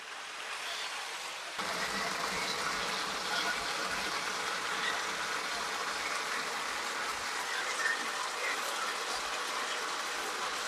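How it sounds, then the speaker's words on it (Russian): Boiled water poured into a kazan of frying chickpeas, a sudden loud hissing gush that starts abruptly and continues steadily, close and with no talking. "Вот давайте прижарим немножко нут и будем добавлять кипяченую воду."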